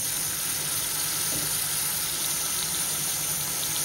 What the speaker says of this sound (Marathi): तेलामध्ये आता आपण अद्रक लसूण टाकूया